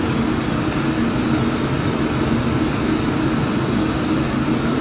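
Phenom business jet engines in Flight Simulator X climbing at 75% throttle over the Alps, a loud, steady broadband roar with a low rumble that holds constant throughout, no talking.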